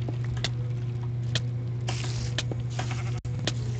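Sheep in a Minecraft Hexxit modpack game bleats in several short, sharp calls spaced across a steady background hum, fairly faint and without speech.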